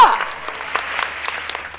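Scattered clapping from a church congregation, uneven and moderately loud, with a few voices mixed in.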